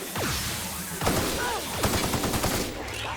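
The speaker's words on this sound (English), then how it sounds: "That's why we have a shock assault rifle" A shock assault rifle in The Outer Worlds fires in several quick bursts with zapping electric tails, close and punchy, with a little game chatter between shots.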